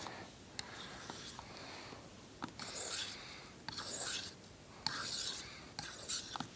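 A point knife drawn in one direction across stropping film, each pass giving a soft, dry rasping rub in uneven strokes of a second or so, close and fairly quiet with brief pauses between.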